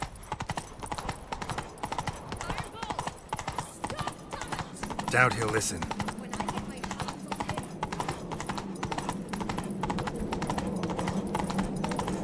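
Steady galloping hoofbeats of a horse in the video game The Witcher 3 carry on throughout, with a voice speaking briefly over them and a brief louder clatter midway.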